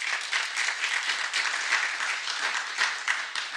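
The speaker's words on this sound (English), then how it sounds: "you can hold your applause" An evening audience at a county commissioners event breaks into steady clapping. The applause is broad and fairly loud, and it continues evenly throughout.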